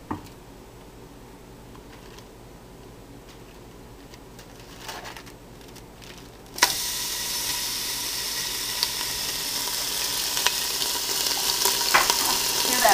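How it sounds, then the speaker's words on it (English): Steady, bright crackling sizzle of bacon frying in a pan, starting abruptly partway through after a quieter stretch, continuing close and loud with no talking. "Bacon sizzling."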